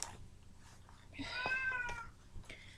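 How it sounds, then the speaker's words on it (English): A single drawn-out meow from a pet cat indoors, moderately loud and close, rising and falling over about a second amid faint room noise. "Sorry about the cat."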